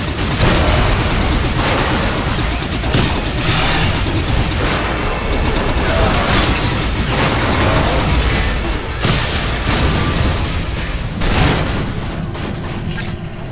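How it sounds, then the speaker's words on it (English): Loud, continuous barrage of explosions and gunfire-like bursts from the indie shooter Hard Reset, dense and chaotic throughout with constant low rumble and repeated booms. "there's lots of explosions"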